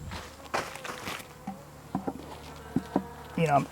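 Honey bees buzz close by at a hive during an inspection, with wavering hums passing near and light rustling and tapping in between.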